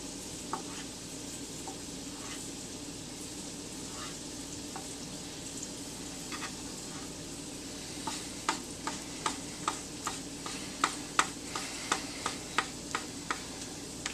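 Diced pear and banana cook in a pan with a soft, steady sizzle, and a run of light regular ticks, like a spoon stirring and tapping, builds near the end.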